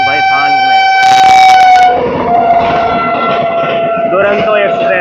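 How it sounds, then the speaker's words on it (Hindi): Duronto Express on the Mumbai–Hapa run passing close by on rails, with a loud horn blast early, a burst of rattling wagons, then steady clattering and rumble under excited voices. "दुरंतो एक्सप्रेस मुंबई हापा। क्या ही तड़क तड़क आवाज सुनिए सिर्फ आप।"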